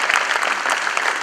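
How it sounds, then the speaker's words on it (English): Warm applause rises from the audience at a talk on investor learning in the Indian stock market, brief, dense and steady clapping heard close without voices. "Let's give him a warm round of applause"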